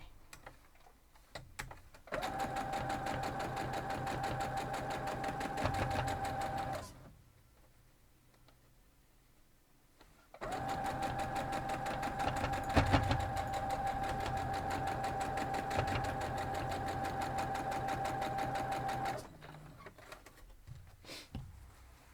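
A sewing machine stitching quilt block seams runs in two long steady bursts of rapid mechanical whirring, separated by a quiet pause, with faint clicks at the start and end.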